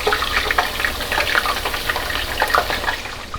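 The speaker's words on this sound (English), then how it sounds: "And I'm going to drop my chips in there. Drop the potatoes in there." Thin-sliced potato chips fry a few at a time in moderately hot oil, a loud, close, bubbling sizzle that churns steadily throughout with no talk.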